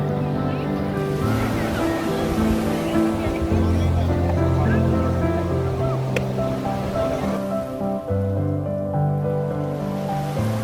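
Sea waves wash steadily onto Cox's Bazar beach in Bangladesh in the evening, a constant loud surf roar mixed with a humming tonal drone and faint background voices.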